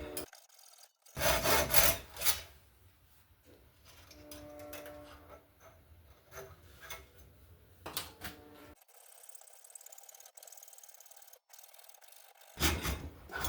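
A handsaw works through a Softail motorcycle exhaust pipe clamped in a vise, with rasping strokes in bursts separated by pauses, along with scraping and clunks, close and fairly quiet.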